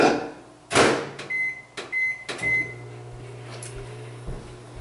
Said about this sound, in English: I'm going to melt it in the microwave for